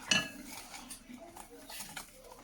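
A child stirs purple chili in a pot with a spoon, the metal utensil scraping and clinking softly against the pot in a quiet, continuous rhythm, with faint background voices.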